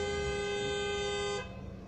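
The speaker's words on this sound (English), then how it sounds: "I don't even know who is horning now." Car horns honk in stalled traffic, one long steady horn sounding loud and close for about a second and a half before cutting off, leaving a faint traffic rumble.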